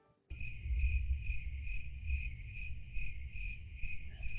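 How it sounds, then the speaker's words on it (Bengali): Crickets chirp in a pulsing, evenly spaced rhythm on an evening near a forest, steady and moderately close, starting abruptly and continuing alone with no talk. "শুধু ঝিঝি পোকার ডাক।"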